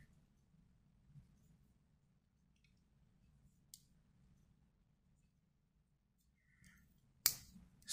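Scissors on an Ozark Trail 15-in-1 multi tool give one crisp snip near the end, with a fainter click earlier over a quiet, low hum.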